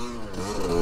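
A HJX 250cc four-stroke trail motorcycle on a mountain trail at Mt. Williams, its engine revving in a brief, steady, moderately loud drone.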